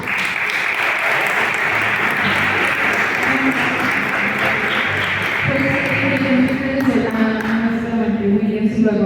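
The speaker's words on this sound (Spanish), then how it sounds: "Diamante Premier se merece un fuerte aplauso." Warm audience applause for a network marketing company at a business presentation, dense and steady, with upbeat music rising beneath the clapping in the second half.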